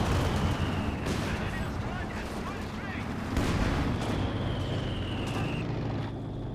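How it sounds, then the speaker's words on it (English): Explosions and gunfire in a Company of Heroes 2 battle, including a rifle grenade blast, with dense rumbling booms and crackling shots running continuously over the whole stretch. "Oh, rifle grenade."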